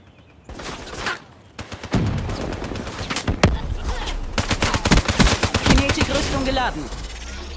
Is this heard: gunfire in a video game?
yes